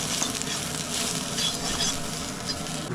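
Onion frying in a pan for homemade chicken sukka, a dense, even sizzle with soft stirring, close and continuous for a few seconds.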